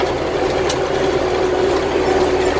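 A farm tractor engine idles steadily with a low, constant rumble while loading manure into a spreader, the drone close and unbroken throughout.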